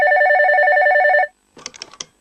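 A telephone in an old cartoon rings with a loud warbling electronic trill for just over a second, then stops, followed by a brief quiet pause and a few short clicks.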